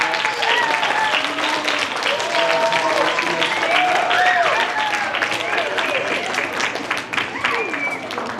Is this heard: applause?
yes